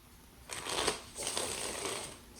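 Two quick bursts of tarot cards being riffle-shuffled, close and crisp, with a soft papery flutter between them and no talking.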